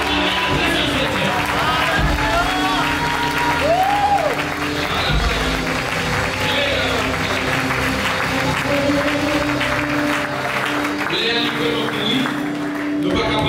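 A Haitian church congregation applauds and acclaims God in loud, sustained clapping and crowd noise, with voices shouting and singing throughout.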